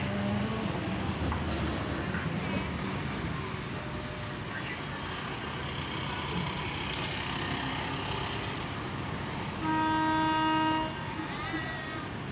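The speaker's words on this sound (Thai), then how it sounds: "ขับรถเที่ยวนี้ออกจากสถานีแล้ว" Special suburban train 388 from Chachoengsao Junction to Bangkok departs Hua Mak station with a steady, loud rolling rumble, and a sustained horn blast sounds near the end.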